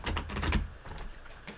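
A deck of new tarot cards being shuffled by hand, close and crisp, with riffling flutters that fade into quieter card rustles.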